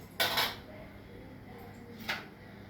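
Peanuts tipped into a heated pan while making atukula (poha): two short, sharp rattling bursts a couple of seconds apart over a quiet kitchen background.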